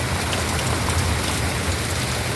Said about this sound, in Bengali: যেমন বিদ্যুৎ চমকাচ্ছে তেমনি বৃষ্টি